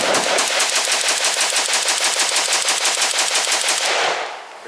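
Rapid automatic fire from a CETME Model L rifle, a long sustained string of evenly spaced shots emptying a magazine, loud and close, ending abruptly in a short fading tail.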